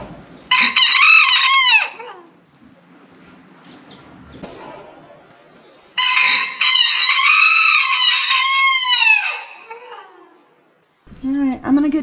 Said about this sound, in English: He's got the cutest, squeakiest little crow you could ever imagine.